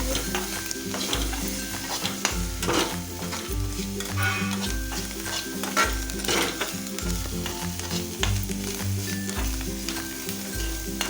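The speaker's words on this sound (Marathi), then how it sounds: "इथं आपले सर्व मसाले छान असे फ्राय झालेले आहेत" Turmeric, red chilli powder and onion-garlic masala fry in a pan with a steady loud sizzle, broken by repeated rhythmic scraping and clanking strokes of stirring.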